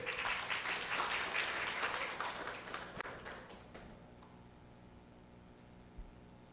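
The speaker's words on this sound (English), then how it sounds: "I don't think he heard the applause." Applause from an audience at a national youth environmental speaking final welcomes a finalist from Hope Secondary, with loud clapping for about three seconds that thins and fades to quiet room tone.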